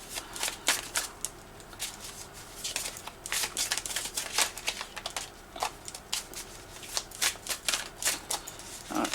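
A deck of tarot cards being shuffled close up, rapid riffling bursts and soft flicks repeating in irregular runs, fairly quiet, with no talking over them.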